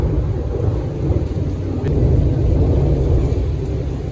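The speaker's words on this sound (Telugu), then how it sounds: "ఒక రేంజ్ లో వర్షం పడుతుంది, అసలు ఉరుములు మెరుములు మామూలుగా లేదు" Loud, continuous downpour with a deep rolling rumble of thunder underneath, dense and close, with no voices.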